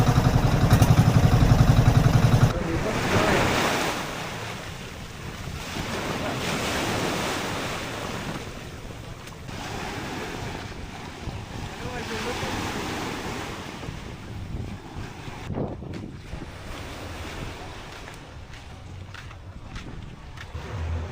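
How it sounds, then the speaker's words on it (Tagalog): Strong ocean waves surge and crash continuously, a loud roaring wash with gusty wind buffeting the microphone; no one speaks. "Lakas ang alon."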